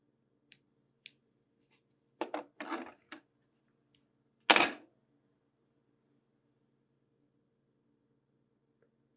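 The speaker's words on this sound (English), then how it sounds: "I'm just going to cut a strip maybe 6 inches long off the spool here" Scissors snip a short strip of tinsel off a spool at a fly-tying bench: a few sparse, close clicks and snips, then one louder crisp cut, with quiet gaps between and no talking.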